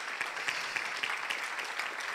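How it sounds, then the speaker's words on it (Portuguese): A church congregation applauds the Lord during an evening service, steady moderate clapping from many hands filling the room without pause. "Nós vamos aplaudir ao Senhor Jesus nessa noite, mais uma vez."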